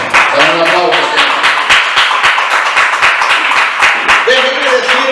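Church congregation applauding in rhythmic, dense clapping that fills the space, with a voice calling out over it near the start and again at the end.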